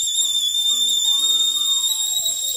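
A steady high-pitched kettle whistle with a second tone above it, loud and continuous, over a faint hiss of steam.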